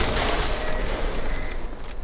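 A grenade goes off in the survival game Dysmantle, a dense, rumbling blast with crackling debris that fills the whole moment at steady loudness, with no voices over it.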